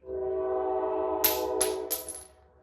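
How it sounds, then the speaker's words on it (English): A train horn sounds in three loud blasts over a low steady rumble, the long tones fading away as the train passes. "Oh, train."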